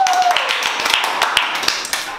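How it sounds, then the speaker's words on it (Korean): A small group of office staff clap briefly and unevenly, with sharp individual claps close by, some chatter alongside. "자, 박수!"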